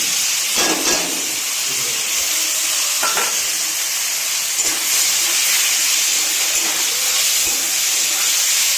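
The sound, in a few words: taro greens added to hot oil, sizzling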